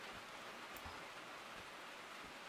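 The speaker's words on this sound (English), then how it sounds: "It's now raining like crazy." Heavy rain falls in the train simulator game Derail Valley. The steady hiss is dense and unbroken and sits at a low, even level, with no voices.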